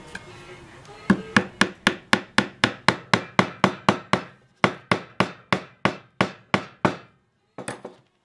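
Sharp wooden hammer blows drive glued pieces into holes in a cigar box guitar neck heel, about twenty steady, evenly spaced strikes, a short pause, then a few lighter taps, all close and with no talking.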